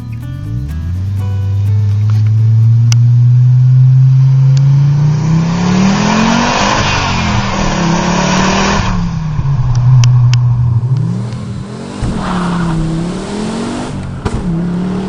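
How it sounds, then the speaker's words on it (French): Audi 200 Quattro Turbo five-cylinder with a modified exhaust, loud and close as it accelerates through rising gears, then lifts, shifts and pulls again with a raspy, throbbing note. "Si d'origine le 5 cylindres s'exprime plutôt discrètement, quelques subtils ajustements opérés sur la ligne d'échappement permettent de révéler sa filiation avec ses homologues"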